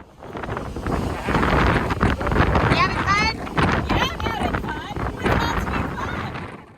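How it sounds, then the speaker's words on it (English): Strong wind gusting around a sailing catamaran on the Mediterranean, an Outremer 52 caught in a sudden 30-knot blow, roaring steadily and close to the microphone, with voices heard intermittently over the buffeting. "And the wind did not disappoint."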